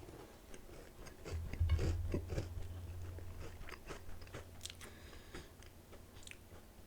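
Close, crunchy bites and chewing of homemade cookies, a burst of crunching early on fading into softer steady mastication, with no talking.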